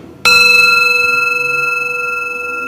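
An iron Buddhist bell is struck once, giving a loud, clear ring that sustains with a bright, layered tone and decays slowly, alone with no voices.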